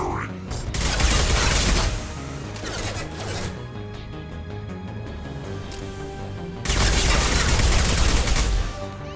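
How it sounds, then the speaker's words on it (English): Gunfire from the video game Mass Effect 2: loud bursts of rapid fire and booms open the clip, ease into a quieter stretch of mechanical clatter and tones, then return as another heavy volley near the end. "Firing."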